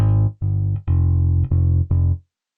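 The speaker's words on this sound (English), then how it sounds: "Modo Bass, and this is a bass guitar plugin" Modo Bass bass guitar plugin playing five clean, sustained low bass notes in a steady sequence, each cut off before the next, with a warm tone, up close and alone.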